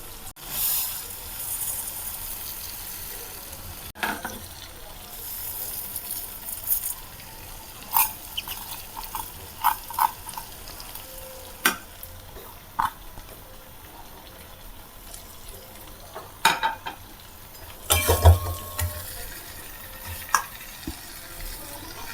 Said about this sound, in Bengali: এবার এতে দিয়ে দেবো ভেজে রাখা মুগের ডালটা।